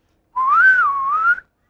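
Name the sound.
person whistling like a bird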